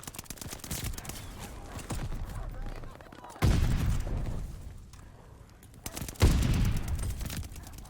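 Whitley rifle fire in the video game Call of Duty Vanguard, a handful of heavy booming shots spaced seconds apart over a busy battlefield bed, with a voice talking now and then.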